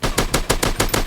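Rapid automatic gunfire in a Free Fire style first-person shooter game, loud close bursts of about six evenly spaced shots with no voice over them.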